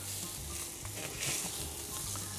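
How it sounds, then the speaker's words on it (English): Whole sardines sizzling on hot, oiled grill bars, a steady faint crackle and hiss of frying fish with small pops, close and unaccompanied by talk. "take your whole sardine, lay them crossways across the bar, leaving space so the heat can get through"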